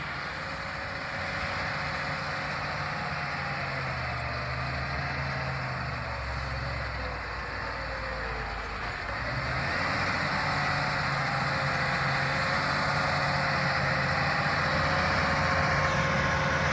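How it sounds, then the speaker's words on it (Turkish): A heavy diesel crawler tractor engine drones steadily at close range, with a slight rise in intensity partway through and no speech. "Paletli traktörler."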